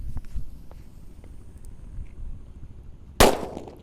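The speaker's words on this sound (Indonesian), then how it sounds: "Kalau ini mercon tongkat kera kaget." A kera kaget stick firecracker set off outdoors during Ramadan festivities bursts once in a single sharp, loud bang near the end, after a few seconds of quiet ambient noise.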